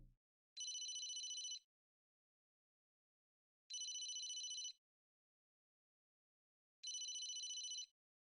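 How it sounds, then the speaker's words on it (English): A phone rings in the video game Emio The Smiling Man, three identical electronic trilling bursts of about a second each, spaced evenly with long silent gaps between, clean and alone. "the phone call"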